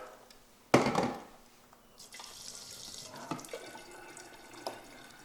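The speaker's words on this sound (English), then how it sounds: "now we are going to fill the rest of this jug with RO water" A sudden gush of RO water pours into a jug, then settles into a steady filling sound with a few small knocks.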